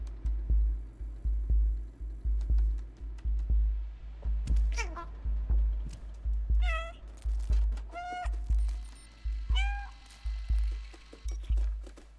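A cat meows several times in the video game Stray, its rising calls standing out over a steady rhythmic throbbing pulse in the game's background sound.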